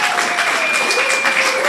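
Comedy club audience at Mia Roma clapping steadily, a dense wash of hands sustained throughout at moderate loudness, with a faint tonal hum running beneath.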